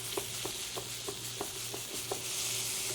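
Shrimp and garlic frying in a pan for shrimp scampi, a continuous hissing sizzle with regular soft clicks of stirring, close and steady, without talk.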